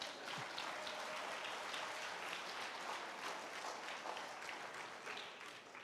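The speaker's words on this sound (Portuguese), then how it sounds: "Pode dar uma salva de palmas para Jesus." A church congregation gives a sustained round of applause, steady dense clapping throughout that fades slightly toward the end.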